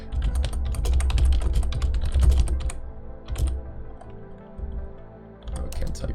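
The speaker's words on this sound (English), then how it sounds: "I'll probably look it up because I think this is so... I'm sorry that I have to type" Fast, irregular keystrokes rattle on a computer keyboard in close, steady bursts for most of the stretch. The typing pauses briefly partway through, then starts up again.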